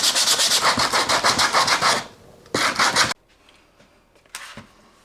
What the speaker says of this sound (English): watch me sand this and let's see how it goes